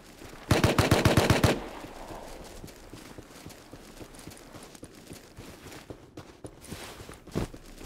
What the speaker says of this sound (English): Hey, shots.